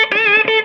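Electric guitar through a Zen Drive overdrive pedal rings out in a short, loud, mildly driven burst of sustained chord tones with a brief pick attack in the middle.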